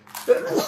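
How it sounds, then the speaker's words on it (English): A single close indoor sneeze, a short sharp burst with a breathy tail, and a brief spoken word right after. "Oh, I got to sneeze again."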